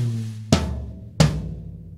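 Toms on a drum kit, two hanging toms and a floor tom, ring out in sequence: three close, resonant hits about two-thirds of a second apart, each decaying into the next.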